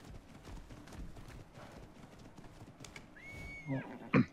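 Pony hooves clip-clop in the ARK video game, a steady run of soft, rapid footfalls throughout, ending in a louder whinny-like call near the close.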